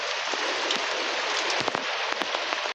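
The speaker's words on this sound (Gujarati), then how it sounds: "વરસાદ ચાલુ થઈ ગયો" Steady rain patters down in a dense, even hiss with occasional louder drops, then cuts off abruptly.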